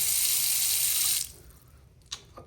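Hot water tap in a hotel bathroom sink at a Waikiki hotel runs with a loud, steady hiss of water into the basin, then shuts off abruptly after about a second, leaving a quiet room with a couple of faint clicks.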